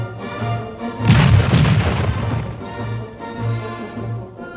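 Grenade blasts during World War I army training, heard as a loud burst of rough, rumbling booms in the middle under a steady low music-like drone, then fading.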